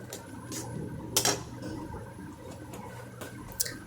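A spoon stirring a small sea fish curry of chapila fish in a cooking pot gives a few faint, scattered metallic clinks and scrapes over a low background hum, quiet and close.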